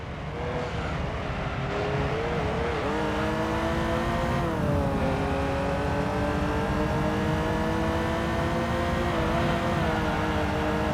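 Engine of a heavily powered Lotus Esprit race car in Gran Turismo 3, a loud continuous high-revving whine that dips and climbs through gear changes and throttle lifts, with no talk.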